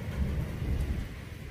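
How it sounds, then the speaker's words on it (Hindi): Rain mixed with hail falls in a mountain area, a low, rumbling wash of pelting drops with a dense, heavy texture, steady and fairly close over a brief stretch. "बारिश ओले शुरू हो गए"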